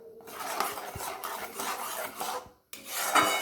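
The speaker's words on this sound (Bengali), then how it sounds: "তল থেকে এভাবে ধীরে ধীরে নাড়াতে থাকতে হবে।" A chhana and sugar mixture is stirred slowly in a pot on a gas stove, a utensil scraping and rasping repeatedly against the pot bottom in steady strokes, close with no talk.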